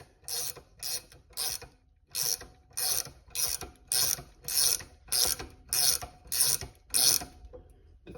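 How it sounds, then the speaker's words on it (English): Wrench ratcheting on a DIY wrist pin removal tool on a small-block Chevy 350, a dozen crisp close clicking bursts in a steady back-and-forth rhythm, no talking. "So use a wrench."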